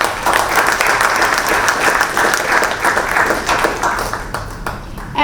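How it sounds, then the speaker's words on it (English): Audience at a university conference session at IILM University, Gurgaon, breaking into sustained applause, a dense, loud wash of clapping from a large crowd that holds steady for several seconds before tapering slightly. "Let's give them both a big round of applause."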